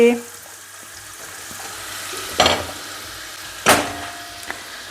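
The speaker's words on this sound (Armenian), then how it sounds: "Գազարը տապակվեց և սունկն եմ լցնում։" Carrots frying in a pan for a rice and mushroom pilaf give a steady, close sizzle, broken by two louder bursts of scraping or stirring.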